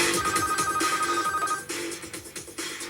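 A phone ringtone plays for an incoming call, a loud repeating electronic melody with steady harmonic tones, dipping in level partway through, with no talking over it.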